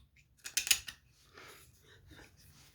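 Knife blade cutting against the grain of material at a workshop bench, a short burst of several crisp rasping strokes followed by softer, quieter scraping.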